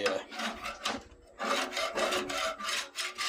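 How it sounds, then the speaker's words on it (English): A putty knife scrapes off material in quick, close rasping strokes, about six rough passes with a short pause in between. "Get the majority of this off with a putty knife"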